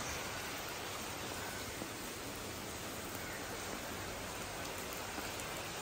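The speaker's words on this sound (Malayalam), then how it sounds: "അപ്പോൾ ഫ്രണ്ട്സ് ഇത് നോക്ക്, നല്ല മഴ പെയ്തുട്ടോ." Heavy rain falls as a dense, steady hiss throughout, fairly faint and with no voices.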